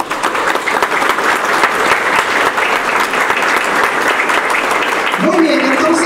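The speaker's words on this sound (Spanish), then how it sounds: "Dale un aplauso al Señor" Congregation in a church breaks into sustained, loud applause that fills the whole stretch, with a voice starting to speak near the end.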